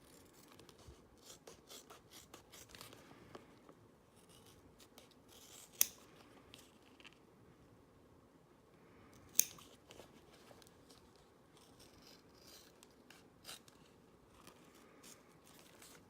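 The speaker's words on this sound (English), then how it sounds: "you want to turn your vinyl, not your scissors. We want slow, even cuts, nice and straight." Scissors make slow, even, straight cuts through vinyl while crafting a Mind Stone flasher fob, a series of quiet close snips and rasps with two sharper clicks standing out, no talking.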